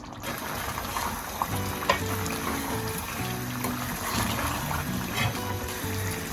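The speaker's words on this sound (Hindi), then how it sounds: "मैं हाई फ्लेम पे इसकी अच्छे से बुनाई कर रही हूँ, ये साथ साथ ऑयल छोड़ती जा रही है कलेजी" Mutton liver fries on a high flame, making a dense, continuous sizzle with occasional sharper pops and spatters. A low hum sits underneath and there is no talking.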